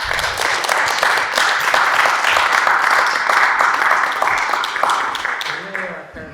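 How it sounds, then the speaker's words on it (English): Audience at a school board meeting breaks into a round of applause, dense steady clapping sustained throughout and tapering near the end. "Round of applause for."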